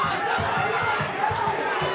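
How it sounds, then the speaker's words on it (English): A crowd roars steadily through a bloody slugfest at a K Series Warriors Cup fight between Sandoval and Biers, a dense, constant din with people talking within it. "This crowd is going nuts right now"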